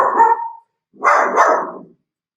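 A dog nearby gives two short, loud barks about a second apart, with quiet in between. The barks come in the middle of a spoken lecture.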